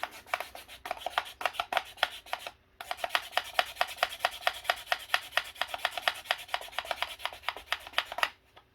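A trading card buffed with the dry side of a cleaning pad, giving quick repeated rubbing strokes in a steady rhythm that pause briefly midway, close and fairly quiet, with no talking.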